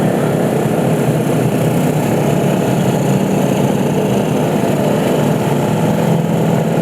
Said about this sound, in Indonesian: Ini motor-motor official team.